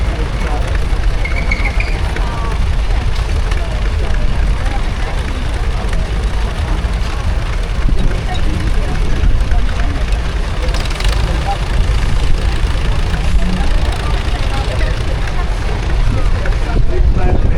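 A David Brown tractor and steam engines rolling in a rally parade at the Tinkers Park steam rally, a low continuous engine rumble partly buried under heavy wind buffeting, with people talking nearby.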